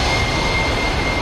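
A jet aircraft roars past in a flyby in the DCS World flight game, a loud, dense, steady engine rush heard alone in a brief burst.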